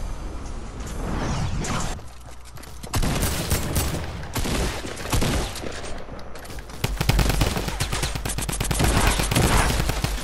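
Drum gun firing in Fortnite, rapid bursts of loud automatic shots with short pauses between volleys, close and dominant throughout.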